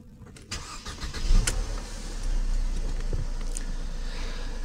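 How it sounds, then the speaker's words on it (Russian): A petrol car engine fires up from cold in the morning, with a short crank and catch followed by a steady, even idle running close by without any talk. "Поэтому с утреца на холодную первым делом мы пустили двигатель"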